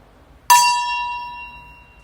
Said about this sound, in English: We're going to use the gong.